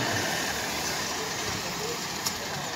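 A Suzuki outboard motor drives a small boat piloted by a young boy on a lake, a steady mid-pitched engine drone running continuously, with a faint voice in the background.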